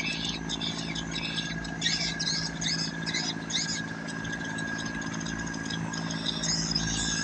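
A cargo barge engine drones steadily on the Mekong River, a continuous low mechanical hum running loud and unbroken throughout, with faint chirping higher up.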